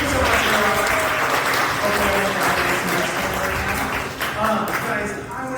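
Loud, sustained applause and cheering from a comedy club audience at the Garage, dense clapping filling the whole stretch with crowd noise and voices mixed in.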